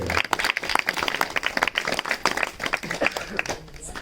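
An audience claps at an outdoor village promotional gathering for a religious fair, dense steady applause filling the whole stretch with some voices mixed in.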